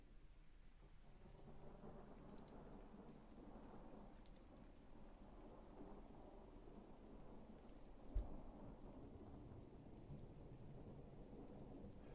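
Rain falls outside as a faint, steady patter, with low rolling thunder rumbling underneath and one soft thump near the end, heard from indoors and with no talking.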